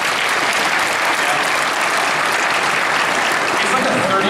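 Loud, dense applause from a convention audience at Midwest Furfest 2017, a continuous roar of clapping throughout with no voice over it.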